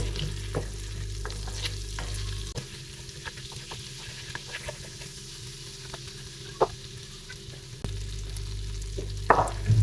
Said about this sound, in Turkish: Biraz kavrulsun tereyağımız.